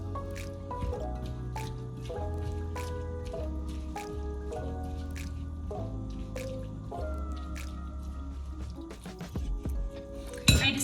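Canned tri-beans are stirred together for veggie burgers, making wet squishing and dripping sounds. The soft, close clicks repeat in an uneven rhythm for several seconds.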